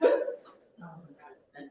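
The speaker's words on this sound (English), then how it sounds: "nothing, I heard hiccup" A single sharp hiccup-like burst during a live paranormal panel investigation, loud at the start and followed by a few faint, muffled vocal sounds.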